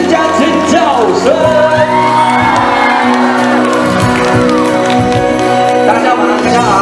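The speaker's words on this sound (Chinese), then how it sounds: "给自己一个掌声加尖叫声" A crowd at an outdoor Taoyuan seafood festival concert cheers, whoops and screams loudly and close, with rising and falling shouts and a singer's voice mixed in.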